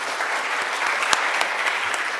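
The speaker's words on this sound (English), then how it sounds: "let's give our panelists a round of applause" An audience applauds panelists at the close of a corporate panel, a steady, full burst of clapping with a few sharper individual claps standing out, continuing evenly throughout.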